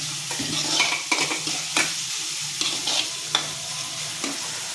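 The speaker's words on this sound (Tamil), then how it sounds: "வெங்காயம் வதக்குறோம். வெங்காயத்துக்கு கூட இப்போ பூண்டு சேர்த்தாச்சு." Onions with garlic and ginger sauté in oil left over from frying mushrooms, giving a steady close sizzle broken by several sharp scrapes and clacks of a spoon stirring against the pan.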